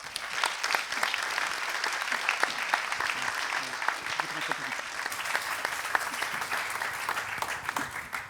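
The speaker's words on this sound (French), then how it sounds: "qui est Madame Lisiane Brao, que je vous demande d'applaudir." An audience at a public political meeting applauds a newly introduced candidate, continuous dense clapping from many people, steady and fairly loud, with faint voices mixed underneath.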